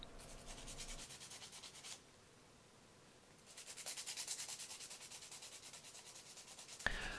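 Sandpaper rubbed back and forth across a metal fishing spoon in quick, even strokes, two faint bursts of scratchy rasping separated by a short pause.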